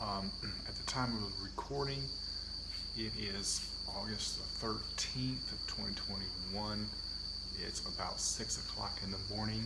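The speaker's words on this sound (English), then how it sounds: "You can hear the crickets and the birds chirping in the background as they all wake up." Crickets chirp steadily with bird calls at about six in the morning in August, a high continuous insect trill beneath someone speaking close up throughout.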